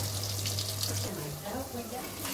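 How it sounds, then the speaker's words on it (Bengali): A little water is poured into spices frying for a chicken curry with turmeric, chili, coriander and cumin powder: a steady, close, running pour lasting a couple of seconds. "অল্প একটু পানি দিব মশলাটা কষানোর জন্য"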